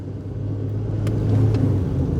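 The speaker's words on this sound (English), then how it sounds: "the car seems to be running fine, which is good news" A Proton car's engine running at the Shelsley Walsh hill climb, a low steady rumble that swells slightly midway, fairly loud and close, with a couple of faint high ticks and no voices.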